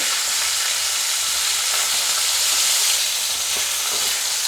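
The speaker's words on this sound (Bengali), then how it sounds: "মাছের মুড়োটাকে আমি খুব ভালো করে ভেজে নেব" A fish head fries in hot oil for a cabbage dish, producing a loud, continuous crackling sizzle close by with occasional faint stirring taps and no voices.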